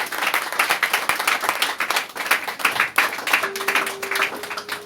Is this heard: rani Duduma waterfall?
no